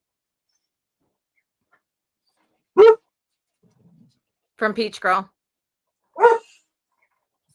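A pet dog named Summer barks in a few short, sharp bursts, clear and fairly close, with talking in between.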